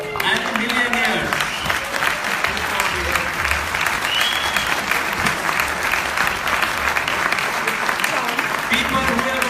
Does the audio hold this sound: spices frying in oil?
no